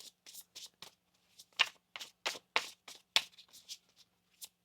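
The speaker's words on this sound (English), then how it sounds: "One more shuffle." A deck of tarot cards shuffled in a series of quick riffling bursts, close and crisp with short pauses between, ending on a few lighter taps.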